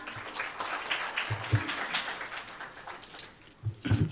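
Audience applause in a hall welcoming journalist Ghazi Salahudin at a literary book event, a moderate steady patter of clapping for about four seconds with a few louder bumps near the end.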